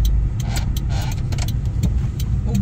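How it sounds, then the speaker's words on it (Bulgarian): Warmed-up car engine idling at a steady, loud low rumble close by, with light clicks and jangling over it in a rural village setting. "Ето колата е загряла"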